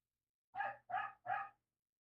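A dog gives three evenly spaced barks in quick succession, fairly faint and distant, with silence before and after.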